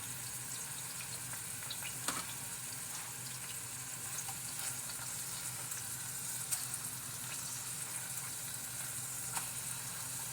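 Homemade burger patties fry in a pan with a steady, even sizzle that holds throughout, broken by a few faint pops and clicks, with no talking.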